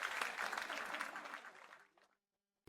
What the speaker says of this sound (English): the crew members rise to their feet and break into applause